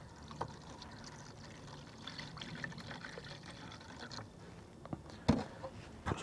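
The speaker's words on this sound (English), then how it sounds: "Put some water in there." Water pours from a small, battered watering can in a soft, continuous low splash and trickle, faint and close, ending with a slightly louder splash near the end.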